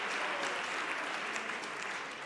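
Applause for award recipients on a main stage fills the hall, a dense, even clapping from a large audience that holds steady at close range for the whole stretch.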